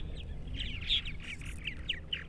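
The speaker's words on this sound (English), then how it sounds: "Okay, birds." Purple martins call in quick, chirpy bursts, several short squawks and gurgles at moderate distance under a steady low background rumble outdoors under the sky.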